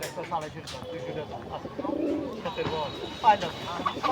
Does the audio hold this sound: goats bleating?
no